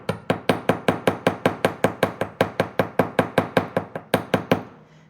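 Rapid, even hammer strikes on wire for wire-wrapped earrings, the hammer held at an angle to texture the metal: about twenty sharp, ringing taps at a steady quick pace, close and loud, with no talk.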